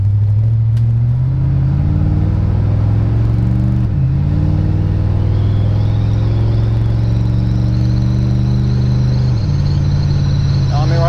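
A 1970 Chevrolet Nova cruises at about 60 mph with manual drum brakes, giving a loud, steady engine drone and road rumble inside the cabin that shifts pitch slightly as it rolls along.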